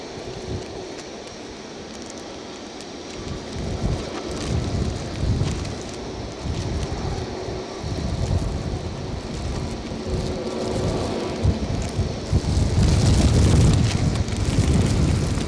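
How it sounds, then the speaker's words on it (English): Storm Floris gusts whip a polythene bag near an airport in Edinburgh, giving a continuous flapping, buffeting rumble that grows louder and rougher toward the end. "It's because the wind is rippling the polythene."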